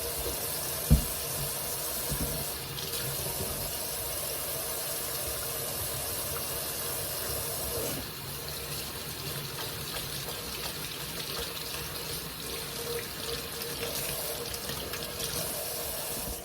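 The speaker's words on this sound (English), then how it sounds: "we're gonna wash our hands with some antibacterial soap" Hands being washed with antibacterial soap under a running kitchen tap, a steady broadband rush of water that continues throughout, with a brief knock near the start and a slight shift in flow midway; no talking.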